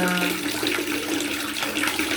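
Discolored tap water runs from a faucet into a bucket, a steady, loud rushing splash that continues unbroken throughout.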